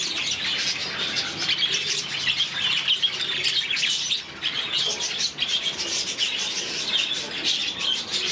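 Cape doves and other small birds in an indoor aviary chirp and twitter continuously, a dense layer of overlapping calls with occasional wing flutters, fairly close.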